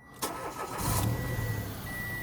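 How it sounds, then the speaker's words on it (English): A Mitsubishi Mirage cranks briefly with a sharp click and catches, settling into a steady close idle, with no talk. "Car starts,"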